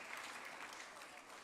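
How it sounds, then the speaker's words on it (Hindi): Audience applause at a National Sports Day 2025 awards ceremony, a dense continuous clapping from a large crowd that holds steady and fairly loud for over a second. "Big round of applause"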